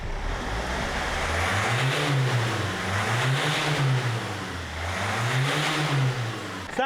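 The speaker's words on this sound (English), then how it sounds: "All right, let's give it a rev and see what it sounds like." A Land Rover Freelander engine, reported down on power with a whistling noise, revs up and falls back three times in a steady rhythm, loud and close with no talk over it.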